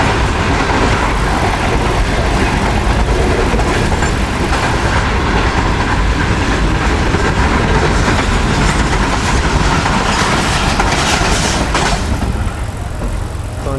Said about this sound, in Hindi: बड़ी स्पीड में है जी ट्रेन।